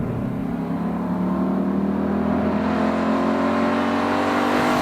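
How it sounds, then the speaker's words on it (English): A Ford Mustang Boss 302 engine drones loudly and steadily from close by, a sustained rough roar with no talk over it. "it's just going to be 10 minutes of engine noise"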